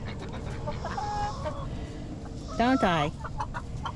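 A hen clucks and squawks in a short burst partway through, with soft talking and background farm noise around it.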